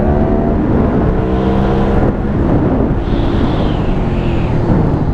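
An Aprilia Shiver 900 motorcycle accelerates, its engine note climbing in pitch through gears with a brief shift pause, loud and close over heavy wind rush.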